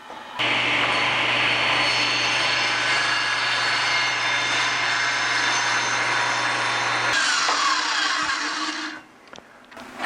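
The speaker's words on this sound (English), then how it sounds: "I need to cut a 1/8 of an inch strip of wood off of this" A saw cuts a thin eighth-inch strip of wood for a twig vase insert, a steady loud whining buzz running for about seven seconds before stopping and trailing off into quiet.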